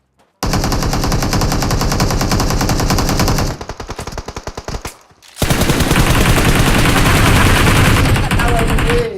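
Loud automatic gunfire in the PUBG Mobile video game, dense rapid bursts close by, with a short pause and a near-silent gap before heavy continuous firing resumes.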